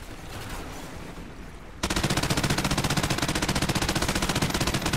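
Rapid automatic gunfire in a video game breaks out suddenly after a stretch of quieter noise and runs as a loud, even stream of shots to the end, with no talk.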